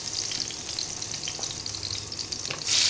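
Green chilies frying in a hot pan give a steady, dense sizzle at close range, continuous throughout and swelling louder at the very end, with no voices.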